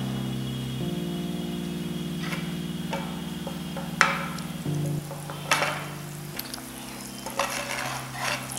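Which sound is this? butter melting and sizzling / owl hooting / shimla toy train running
butter melting and sizzling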